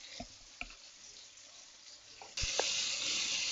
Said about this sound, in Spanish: vamos a sellar bien la carne para que conserve todos sus jugos